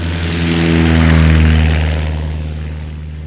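A propeller airplane engine drones steadily and loudly, swelling and then easing slightly as the plane passes through flight, with no voices.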